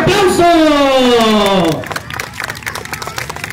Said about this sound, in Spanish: Vamos a brindarles a todos ustedes que participaron en este bonito evento un fuerte aplauso